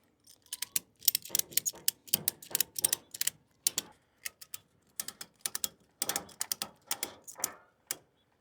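Straps on a cheap dual bike carrier being tightened around a bicycle's front wheel and fork, giving a series of sharp, quiet ratcheting clicks in irregular bursts, close up, with no talking.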